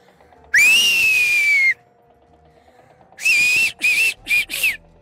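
Turkish villagers' whistled language carries across a rural village: one long sustained whistle, then a pause and a rapid run of several short whistled bursts, loud and clear with no talking.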